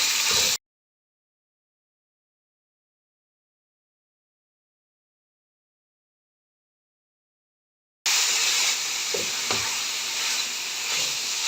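Beef mince frying in a pan with ginger garlic paste, a steady sizzling hiss that comes in after a long stretch of silence and carries on with a few soft clinks.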